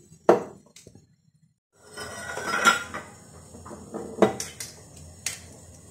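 A plate is fetched and handled in a kitchen where preserved lemons are being prepared, with sharp clinks of china and cutlery, a quiet gap, then a cluster of knocks and rattles close by.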